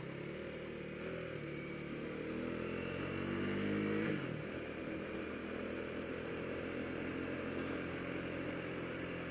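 Husqvarna Vitpilen 401 motorcycle engine under way, a loud steady drone with the pitch climbing, then dropping sharply as a gear changes, before it settles into a constant hum.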